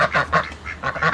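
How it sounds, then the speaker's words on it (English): Ducks in a pen quack in a quick series of loud, close, nasal calls, several overlapping squawks in under two seconds with no speech. "Ducks, you guys are locked up."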